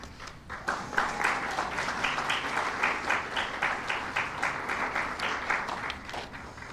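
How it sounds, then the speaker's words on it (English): Audience at a Global Accessibility Awareness Day event applauds the Mayor's Office team, a sustained wash of many hands clapping at an even level for several seconds, slightly distant, without speech. "We'll give them a round of applause"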